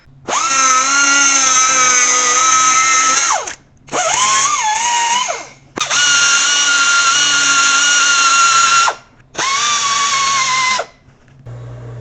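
Power tool cutting off a part on a 4th generation Dodge Ram during an aluminum blend door upgrade, in four loud, steady whining bursts with brief pauses between them, close up and with no talk.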